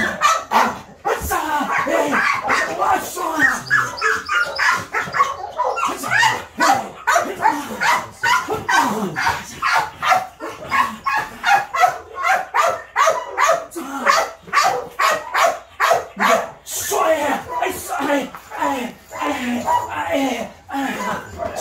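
A Belgian Malinois guard dog barks repeatedly in short bursts on command, close by, while people talk and give commands over it during protection training.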